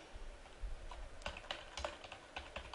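Someone types a message on a computer keyboard in a medical records tasking window, a soft, steady run of close keystrokes with a brief pause near the start, over a faint room hiss.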